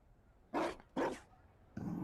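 A dog barks in a fantasy video game, two close gruff barks in quick succession followed by a third, longer rougher bark, over faint background noise.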